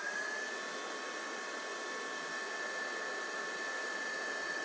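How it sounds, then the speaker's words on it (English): A heat gun blasts hot air onto clear embossing powder to melt it, a loud, steady whooshing hiss with a faint whine, unbroken and close, with no talking. "you can now hit it from the top with your heat gun"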